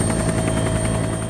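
A helicopter flying over the remote landscape toward Petermann Glacier in northwest Greenland, a loud, steady rotor thrum with fast, even blade pulses and a constant engine whine, heard close from inside the aircraft with no talking.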